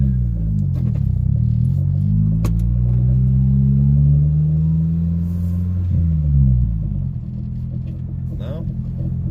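A boosted Honda Civic EG engine idles high and steady with a deep, continuous low rumble that dips briefly and settles slightly lower, close by with no talking.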